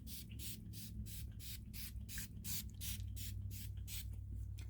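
Finishing spray hisses onto a face in about a dozen rapid, evenly spaced bursts, each a short bright spritz from a pump bottle, loud and close with a steady low background hum and no talking.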